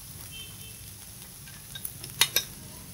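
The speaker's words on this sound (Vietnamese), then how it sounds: "Mình sẽ cùng xào với đậu hũ chiên, đậu rồng, bắp non." Oyster mushrooms, winged beans, baby corn and fried tofu stir-fried in a pan with garlic and shallots, a low steady sizzle rising into a few sharp utensil scrapes and clinks near the end.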